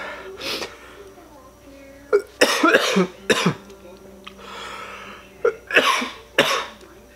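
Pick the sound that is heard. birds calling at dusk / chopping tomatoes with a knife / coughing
coughing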